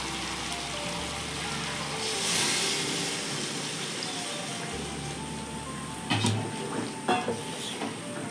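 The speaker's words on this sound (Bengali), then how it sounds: "জল দিয়ে দিই এবার।" Water poured onto sizzling meat and vegetables in a pan gives a steady, moderate sizzle with a surge of hissing in the middle, then a few close clanks of a utensil near the end, with no voices.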